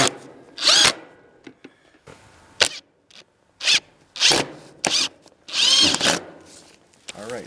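A power drill drives screws into a rain gutter planter during a backyard build. It whirs loudly in short repeated bursts with pauses between them, and a person speaks briefly in the gaps.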